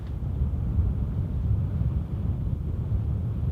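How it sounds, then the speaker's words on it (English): A constant low roar of wind at sea off Tonga rumbles against the microphone, steady and heavy throughout, with no voices. "it's a very windy day"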